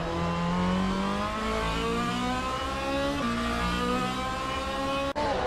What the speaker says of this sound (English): On board with Alan Holden in the number 25 Lamborghini Temerario GT3.